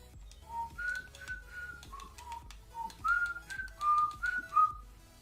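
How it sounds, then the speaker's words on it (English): A person whistles a bright melody along to music during a FIFA 21 trading session, a string of clear sustained notes and short phrases over a faint background of soft clicks and low music. "you start to lose your mind when you're whistling along to non-copyright sounds"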